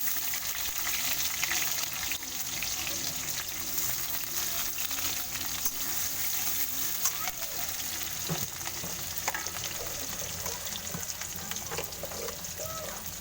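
Onions frying in oil with kalonji and crushed garlic, a steady, close crackling sizzle that runs the whole time with faint stirring scrapes and no talk.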